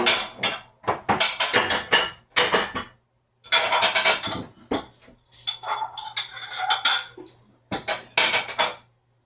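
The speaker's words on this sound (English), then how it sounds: "Let's get a good sized bowl here." A mixing bowl taken out and handled in a kitchen, with repeated clattering clinks and knocks of dishes and metal being moved, close and crisp in short bursts separated by brief pauses, without any speech.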